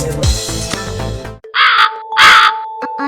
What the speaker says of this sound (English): a thirsty crow was flying over a village in search of water